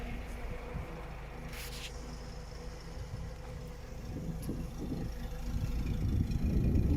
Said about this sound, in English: Nice throaty sound from the exhaust.